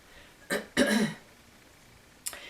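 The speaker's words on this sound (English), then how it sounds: "I'm going to have to cough." Three short coughs, close and throaty, with the first two close together and the third after a pause.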